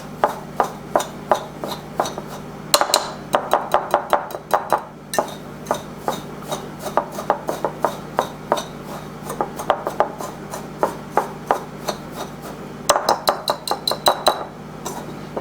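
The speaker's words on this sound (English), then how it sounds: "I'm going to mix it up nice and nice. Make sure it's thoroughly mixed." Cauliflower pieces tossed in a bowl with oil, a series of sharp rhythmic clinks and scraping rattles as a utensil knocks against the bowl, loud and close with brief pauses between bursts.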